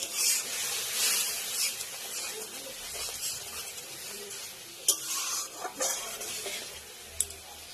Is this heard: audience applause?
no